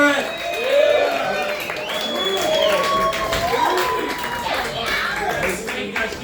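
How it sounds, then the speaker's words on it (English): A comedy club audience at the Grisly Pear claps steadily for several seconds, mixed with loud whoops and shouted cheers from the crowd, fairly close and full. "Clap it up for Burdette"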